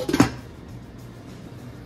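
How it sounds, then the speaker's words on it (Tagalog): A single short clatter of metal as a lid is set onto a pot of vegetable broth heating toward a boil, followed by a low steady hum. "Lagay ko muna yung takip"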